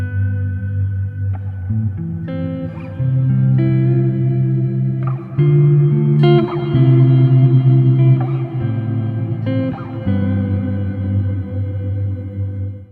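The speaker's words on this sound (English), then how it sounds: "I'm going to switch on the sort of stock setting of the reverb." A dry DI electric guitar plays notes and chords through the Dust Verb granular reverb plugin on its stock setting, giving a big, washed-out, shimmering tail that swells and sustains between chords.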